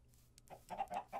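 Chickens cluck in a Minecraft game, a short run of three or four clear, close squawky clucks rising over quiet background after a brief faint click or two.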